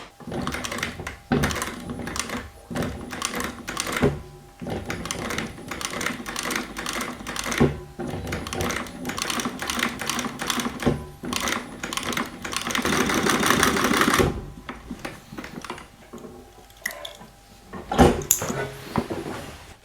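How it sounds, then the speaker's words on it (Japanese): A sewing machine stitches very fine decorative stitches into the toe cap of a shoe, running in rapid rattling bursts with brief pauses in between, close and fairly loud. "くちばし、そして降り注ぐ太陽の光、羽をイメージさせるような超細かいステッチを縫っていきます。"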